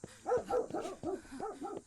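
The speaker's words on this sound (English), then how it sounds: "wherever I go, the dog's voice barks equally loud." A dog in the horror video game Remothered: Tormented Fathers barks repeatedly in quick, yappy bursts, moderately loud and fairly close, with no voices.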